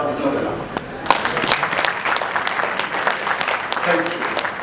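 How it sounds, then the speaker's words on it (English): Conference audience at an African inclusive education event gives a Kenyan panelist a fuller round of clapping, many hands pattering steadily in a hall, with some voices and a brief voice-like sound mixed in near the end. "That clap is not enough."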